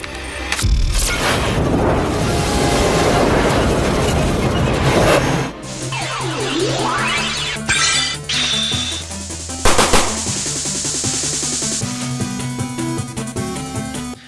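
Gunfire and explosion sound effects burst in a dense, loud sequence of shots and booms mixed with musical tones, shifting in intensity over about fourteen seconds with no talking.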